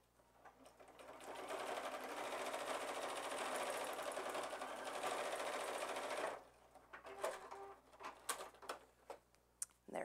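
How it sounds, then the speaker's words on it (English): Sewing machine runs in one steady burst for about six seconds, stitching straight down a seam on a fabric catch-all basket, then stops and leaves scattered light clicks and handling noises close by. "I'm going to stitch straight down."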